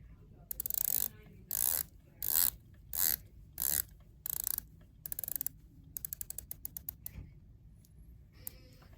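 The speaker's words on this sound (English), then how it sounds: "Take a listen to the Omega bezel." Bursts of rapid ratcheting clicks from a rotating Omega watch bezel, several turns in a row, then a run of slower single clicks, close and crisp.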